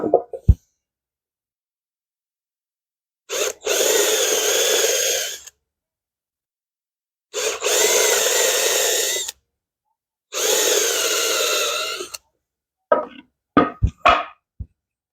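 Power drill countersinking holes in wood, heard as three separate whirring bursts of about two seconds each with silent pauses between, followed by a few short knocks and clatters near the end.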